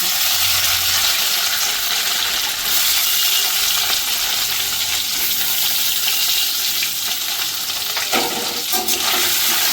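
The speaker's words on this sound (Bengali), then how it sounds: "এবার আমি ফোড়নে দেবো এটাতে জিরে, দিয়ে দেবো এটাতে নারকেল।" Cumin and coconut sizzling in hot tempering oil for veg tadka dal, a steady broadband hiss with some stirring clatter, loudest near the end.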